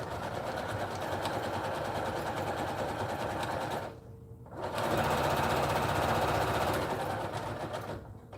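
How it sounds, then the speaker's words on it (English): A sewing machine stitching over pins, a steady loud mechanical whir with rapid needle chatter that pauses briefly, then resumes. "I sew over my needles. I know you're not supposed to, but I do."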